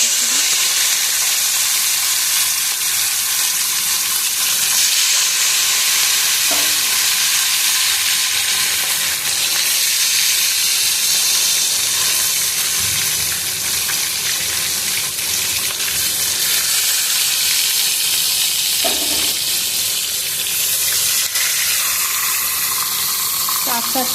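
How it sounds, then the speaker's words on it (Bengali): Pieces of fish fry in hot smoking oil, giving a loud, steady, broadband sizzle that holds for the whole stretch, with occasional faint clinks and no talking. "মাছগুলো ভেজে নেব"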